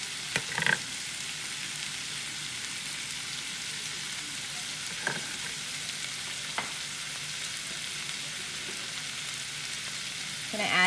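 Spiced ground beef keema fries in a pan as pepper goes in, a constant close sizzle broken by a few sharp clicks from a utensil, with no talking.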